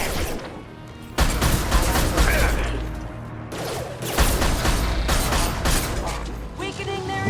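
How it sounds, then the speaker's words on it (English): A sniper rifle in Mass Effect 2 fires heavy, cracking shots that are each followed by a crashing impact. Two loud blasts stand out over battle noise and speech. "This is actually my favorite sniper rifle."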